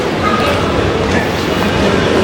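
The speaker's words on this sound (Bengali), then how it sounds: "ট্রাম যাচ্ছে প্রচুর।" A tram running along a tram line on a busy Istanbul street at night: a continuous low rumbling and rolling rail noise blended with street bustle and voices.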